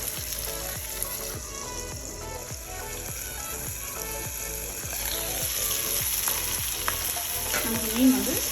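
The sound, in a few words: masala fish frying in a pan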